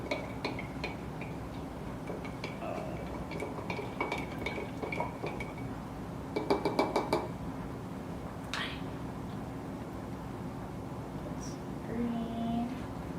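A spoon ticks and clinks lightly in a container as green food coloring is stirred into a crystal-growing mixture, a quiet, irregular tapping with a brief faster rattle midway.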